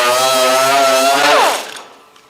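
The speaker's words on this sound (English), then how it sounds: "you need to keep your DA sander down" A dual-action palm sander works a primer surface carrying a light guide coat, giving a loud, steady motor whine that spins down and fades out in the final second.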